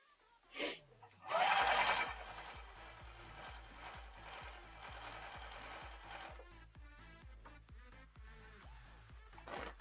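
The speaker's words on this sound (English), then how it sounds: "I've been behind the wheel of my sewing machine" A sewing machine runs in a steady, dense whirr for about five seconds after a short gasp-like sound, then rhythmic low thumps continue as the stitching slows.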